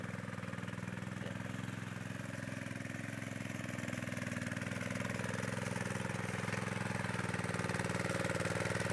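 Mini tractor engine running and revving steadily throughout, a continuous loud mechanical drone with a constant throb and no voices.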